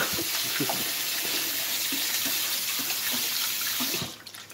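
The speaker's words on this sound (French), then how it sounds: "l'eau chaude ici, elle sort au minimum à 85 degrés du robinet" Very hot water gushes from a kitchen tap in a loud, steady hissing stream close by, then cuts off abruptly near the end; nobody speaks.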